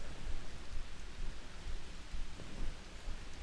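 Steady rain falling on trees in woodland, a soft, even hiss of drops pattering on leaves throughout, moderately quiet with no voices.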